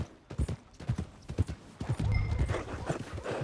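Horse hooves clip-clopping in Red Dead Redemption 2 on the way to the stables, a close irregular series of hoof strikes that settle into a steadier walking rhythm, with faint background ambience.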